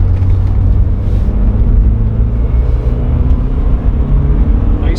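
A 1986 Porsche 944 engine while driving, a loud, steady low rumble with constant road and cabin drone and no breaks.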